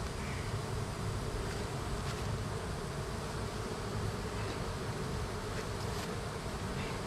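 Honey bees buzz around an open hive, a dense steady drone of many insects close to the microphone with no talking.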